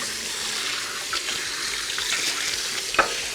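Water runs steadily from a kitchen tap while a pan is rinsed. The hiss is close and constant, with a small clink of the pan near the end and no talk.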